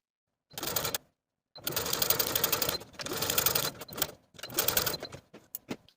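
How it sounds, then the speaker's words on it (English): A sewing machine runs at its longest stitch along a sleeve of a 1940s-style blouse, in four close bursts of rapid rhythmic clatter separated by short pauses. "We're going to take it to the sewing machine and use the longest stitch on your machine"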